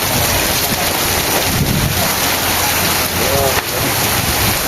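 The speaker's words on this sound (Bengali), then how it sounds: "শুধু বৃষ্টি আর বৃষ্টি।" Heavy rain pours over an Eid al-Adha cattle market at a riverside ferry ghat, a loud, steady broadband hiss with wind buffeting the microphone throughout.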